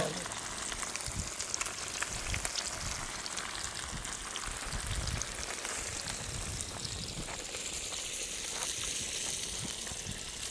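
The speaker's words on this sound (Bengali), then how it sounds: "আমাদের মাছ ভাজা চলছে।" Fish frying in a pan over a coal stove outdoors at a village picnic, a dense, steady crackling sizzle close to the microphone that sounds almost like rain, with no talk.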